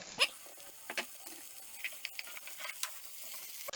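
Rice grains are tipped into a pan of sizzling translucent onions for a risotto, giving a soft patter and light crackle with a few small clicks and scrapes, all quiet, close up and without voices.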